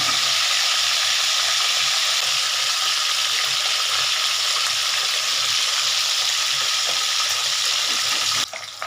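Katla fish pieces frying in oil in a pan, a continuous close sizzle with bubbling crackle, steady and loud, fading out at the very end.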